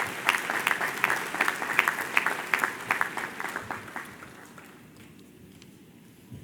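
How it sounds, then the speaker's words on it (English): Applause from an audience at a college ceremony, a steady patter of many hands clapping for about five seconds before thinning out and fading into room quiet. "Let's give these folks a nice round of applause."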